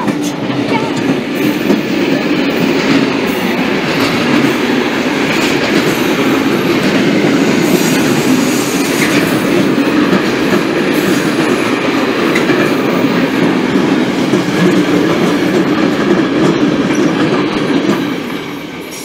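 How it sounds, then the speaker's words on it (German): An ÖBB Vega Taurus electric locomotive hauls a freight train past at Rosenbach, a loud, steady rush of wheels and rolling wagons with faint clatter that holds for the whole span and drops off only at the very end. "jetzt kommt ein Zug"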